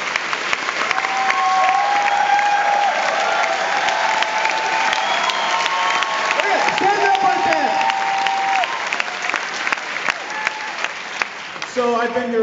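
An audience at a live comedy show breaks into sustained, loud applause with scattered cheers and whoops, filling the room for about twelve seconds.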